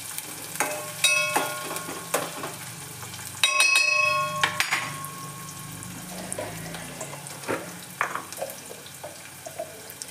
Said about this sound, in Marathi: कांदा मिरची चांगलं भाजून झाल्यानंतर